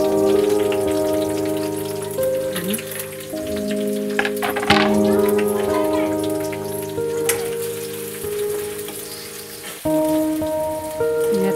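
Chopped onion and garlic with crushed curry leaves fry in oil for a Malvani mackerel chutney, a constant crackling sizzle like rain on a surface, with sustained background music tones running underneath.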